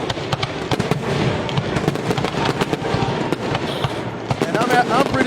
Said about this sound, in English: Fireworks sound like a marching band, Marcus.